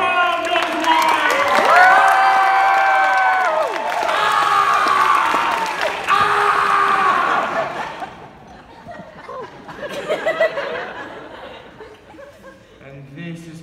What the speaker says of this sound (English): And touchdown! The crowd goes wild.